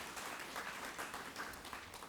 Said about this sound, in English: A round of applause for Travis over here.